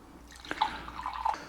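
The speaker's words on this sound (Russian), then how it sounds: "Вот с утра вода набирается у нас." Water fills a container from a home reverse osmosis filter, trickling and dripping with a few brighter splashes and plinks, close and fairly quiet.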